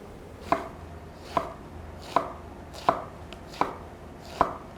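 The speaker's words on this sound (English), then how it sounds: "cut batons, cutting using the same thickness as we cut for the slices" Knife cutting food into batons on a board, six evenly spaced crisp chops about one per second, close and clear with no talking.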